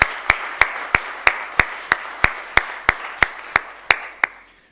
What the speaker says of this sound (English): I want to give a loud round of applause to Michaela and the leadership that she's shown with this initiative